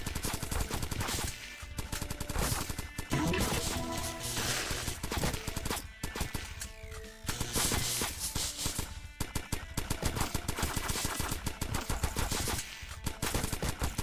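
Rapid automatic Uzi fire in the top-down shooter Crimsonland, loud, dense bursts nearly back to back with brief gaps between volleys.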